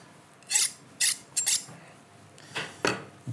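A kitchen knife is drawn slowly along a sharpening steel, giving five clear metallic scraping strokes in an uneven rhythm, with a short pause before the last two, close and fairly loud with no talking.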